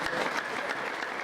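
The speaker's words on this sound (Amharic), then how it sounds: "አጨብጭቡ ለእግዚአብሔር ክብር።" A congregation claps during a church testimony, a dense, steady burst of many hands applauding, close and loud.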